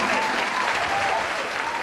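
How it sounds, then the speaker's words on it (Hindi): Enthusiastic applause from the audience at a mushaira poetry gathering, a dense continuous roar of clapping that stays loud and even throughout, with a faint voice underneath. "एक बार आप ज़ोरदार तालियां बजा के मुझे इजाज़त दें कि मैं अपना कलाम पेश करूं"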